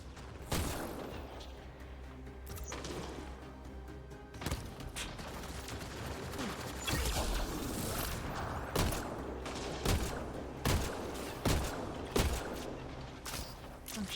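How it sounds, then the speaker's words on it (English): Rapid gunfire from shooting in the video game Mass Effect Andromeda, a dense string of sharp shots and bursts repeating steadily over a constant background of combat noise. "I'm shooting through a plant."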